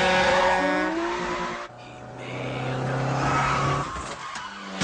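A car skids through a turn, loud tire squeal and screeching tones over a revving engine, one continuous close slide that dips briefly and then surges again.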